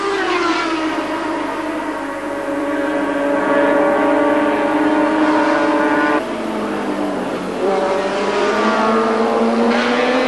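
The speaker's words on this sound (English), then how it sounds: "That was in fact Joseph Nanu on the Mick Hemmings Suzuki." A Suzuki racing motorcycle from the Mick Hemmings team howls past at the 1985 Macau Grand Prix street race. A loud, continuous high-revving engine whine dips and climbs in pitch throughout, with no voices.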